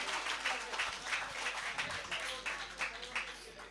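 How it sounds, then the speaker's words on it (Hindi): Audience at a poetry recital, a mushaira and kavi sammelan, bursts into applause, a dense, steady clapping from a crowd lasting the whole moment, with faint voices mixed underneath. "उससे ज़्यादा तालियों के साथ जोरदार ताली"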